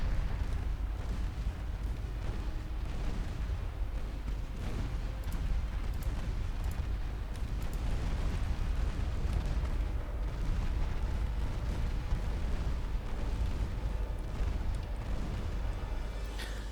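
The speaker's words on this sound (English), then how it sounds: "There you go, scoring flooding hits with the guns." Naval guns boom in Ultimate Admiral Dreadnoughts as warships trade fire and shells strike ships, a dense continuous barrage of heavy low rumbling blasts and impacts layered over one another, loud and unbroken throughout.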